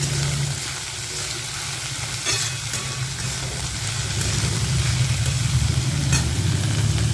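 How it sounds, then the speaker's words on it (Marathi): Spring onion greens stir-fried in a hot pan for Khandeshi brinjal bharit give a steady, close sizzle with stirring scrapes throughout. It grows slightly louder toward the end, with no talking. "त्याच्यामध्ये टाकली मी आता मस्त अशी कांद्याची पात आता अशी मस्त परकून घेऊया"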